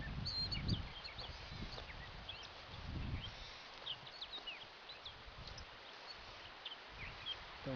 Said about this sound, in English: Love listening to the birds.